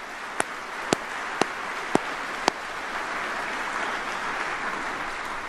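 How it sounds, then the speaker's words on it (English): Audience applause at a National Guard Bureau change-of-responsibility ceremony, a soft continuous patter of clapping with five sharp, louder claps standing out near the start, then an even wash to the end. "let's give another round of applause for all of those"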